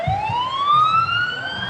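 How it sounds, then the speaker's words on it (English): A McPherson EMS ambulance siren wails during an All Schools Day parade in McPherson, Kansas, one clear rising tone sweeping upward over low street rumble at moderate distance. "Followed by a McPherson EMS ambulance."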